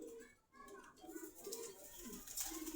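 Racing pigeons coo softly in a loft at a Dhaka market, their low burbling calls overlapping under someone talking throughout.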